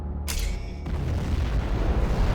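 A nuclear missile detonates in the strategy game Command & Conquer Generals Zero Hour, bursting suddenly into a loud, deep boom that rolls on as a dense, sustained rumble.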